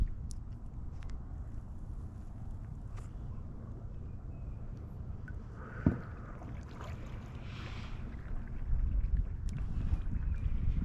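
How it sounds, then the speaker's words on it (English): Wind blows over a lake during February kayak fishing, a steady low rumbling buffet against the microphone with faint water and boat sounds, growing slightly stronger toward the end. "We are getting blown away by the wind."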